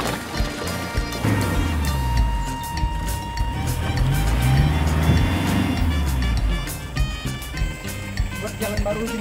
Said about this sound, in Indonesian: Kendaraan kami juga kandas akibat dalamnya jalur roda kendaraan.